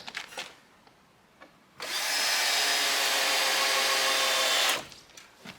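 An old cordless power drill whirs steadily for about three seconds at high speed, then spins down, with faint knocks before and after.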